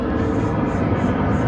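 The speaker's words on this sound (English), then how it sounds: "got some planes going overhead today." Airplanes pass overhead along the Appalachian Trail, a steady broad roar that fills the whole moment with a slowly pulsing drone, loud and continuous with no voices.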